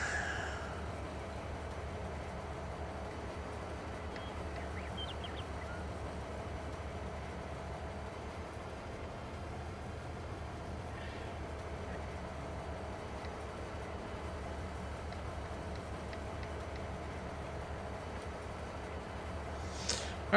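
A train in Farming Simulator 22 rolls along steadily with a constant low rumble and faint rattling, no voices, ending with a small click.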